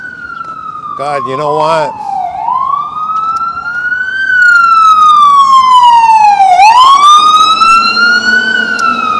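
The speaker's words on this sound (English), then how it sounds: "Here comes an ambulance already." An ambulance siren wails loudly and close by on a Bronx street in New York City, sweeping up and down in long rising and falling tones with a brief rapid yelp near the start, while someone speaks over it.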